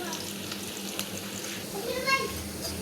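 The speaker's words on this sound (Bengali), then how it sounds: "আমি পেঁয়াজটা লাল লাল করে ভেজে নিচ্ছি" Onions fry in oil until reddish-brown, the base for a tilapia curry with mustard paste, giving a soft, steady sizzle with occasional stirring scrapes and light clicks.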